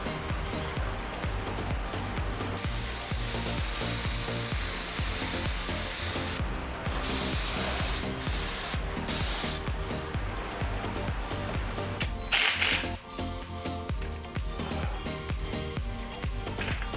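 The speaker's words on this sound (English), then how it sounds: "I'm going to spray it with the actual clear coat." An aerosol spray can hisses in several bursts of clear coat onto a motorcycle part, with loud, close sprays and short pauses between them.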